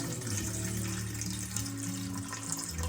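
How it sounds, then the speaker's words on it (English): Water poured steadily from a tap into a mixing bowl set on a kitchen scale for sourdough dough, a continuous close splashing stream with a low gurgle for the full three seconds, alone with no talk. "And we're gonna add water to our bowl."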